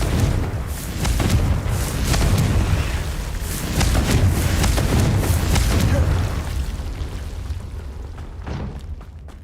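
Confringo spell explosions in the video game Hogwarts Legacy: a series of loud booming blasts and crackling bursts rolling one into another over several seconds, then fading, with a voice speaking faintly beneath.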